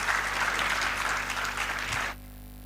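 Audience applause fills a literary festival hall, the 9th Lyallpur Punjabi Literary Festival: a dense, steady round of clapping for about two seconds that cuts off abruptly, leaving quiet room tone.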